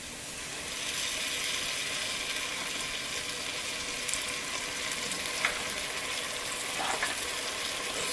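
Chicken chilli with capsicum and red chilli sauce fries in a pan with a steady, close hiss and sizzle throughout, with a couple of faint clinks from stirring.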